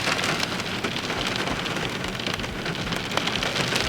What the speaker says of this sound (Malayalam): നല്ല മഴ, ഒന്നും ചെയ്യാൻ പറ്റില്ല.